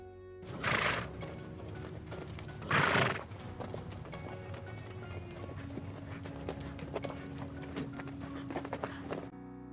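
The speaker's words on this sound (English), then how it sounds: "It's a horse." A horse whinnies twice in loud, shrill bursts, then hooves clip-clop in a steady rhythmic patter that continues to the end, close and clear.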